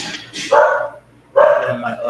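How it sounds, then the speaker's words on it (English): Two sharp barks from a dog next door to an apartment come close together, loud and near, each a short burst with a quiet gap between them. "There's my neighbor's dog."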